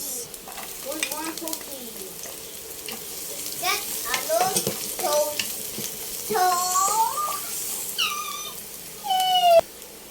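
Onions frying in a pan for a simple home-cooked Filipino dish, a soft steady sizzle low beneath repeated high, sliding meow-like cries and chirps that come and go over ten seconds.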